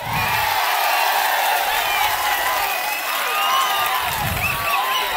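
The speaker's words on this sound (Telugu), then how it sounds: "అవునంటే చప్పట్లు కొట్టండి." Rally crowd at a political meeting in Pendurthi clapping and cheering steadily throughout, a dense continuous wash of applause with whoops rising over it.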